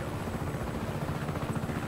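Helicopter rotor chopping steadily in the open-world video game Just Cause 3, a dense low throbbing wash with a constant drone and no voices over it.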